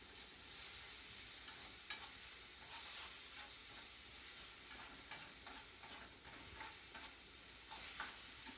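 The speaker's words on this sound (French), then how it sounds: "Pour donner un excellent goût à votre crevette, vous devez faire revenir les oignons environ 1 minute." Onions sauté in a pan as the base for a shrimp dish, giving a steady, quiet sizzle with soft stirring scrapes throughout and no talking.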